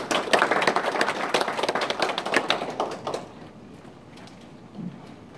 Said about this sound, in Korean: 박수로 맞이해 주십니다.